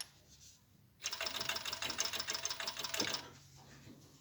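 An overlock serger sewing machine stitches a cloth pad in one steady two-second burst of rapid mechanical whirring, close up and alone, between quiet pauses.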